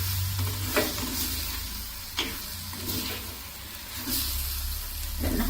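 Onion frying in a pan with green chillies, pandan and curry leaves added, a continuous hissing sizzle broken by a few stirring scrapes and clatters, no voices.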